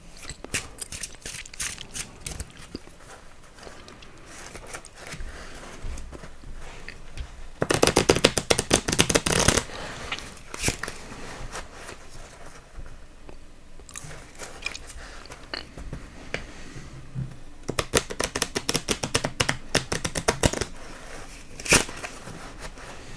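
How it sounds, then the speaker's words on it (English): A deck of playing cards is shuffled close up in a quiet tabletop setting, with repeated crisp riffling bursts and softer rustling handling between them over about twenty seconds. No one talks. "Gotta make sure I shuffle these really good."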